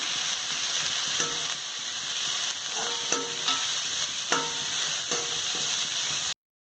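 Vegetables sautéing for paneer fried rice, a bright continuous sizzle punctuated by repeated close scrapes and taps of a spatula stirring in the pan, then an abrupt stop, no voices.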